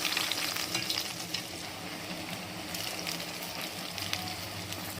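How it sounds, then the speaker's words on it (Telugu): Bread slices deep frying in hot oil for bread halwa, a steady, soft sizzle and crackle that runs unbroken and close with no talking. "ఆయిల్ బాగా వేడైన తర్వాత ఈ బ్రెడ్ని ఈ విధంగా డీప్ ఫ్రై చేసుకోవాలి"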